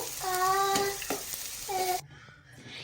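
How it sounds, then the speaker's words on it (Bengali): Ash gourd being stirred while it fries in a pan makes a soft sizzle with scraping stirs, partly covered by a young child's whiny vocal sounds before things go quieter. "অনবরত নাড়তে হবে, এটা ভালোভাবে নাড়াচাড়া করে নিতে হবে"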